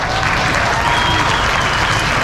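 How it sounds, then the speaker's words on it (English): Continuous, dense applause from a large audience at a Bass Pro Shops 50th anniversary event, cheering bass fishing legends on stage; steady and loud throughout with a faint crowd murmur. "So give them all a big round of applause."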